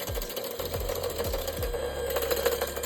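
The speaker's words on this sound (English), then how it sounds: "put it on a medium whisk" An electric whisk runs at medium speed through matcha tea, giving a steady motorized whir with a faint rhythmic clatter that pulses several times early on, then settles into an even, continuous drone.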